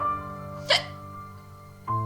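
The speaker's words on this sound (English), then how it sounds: "Dang it, hiccup." A single sharp hiccup pops out alone, close and fairly loud, over a steady tonal background hum with no talking.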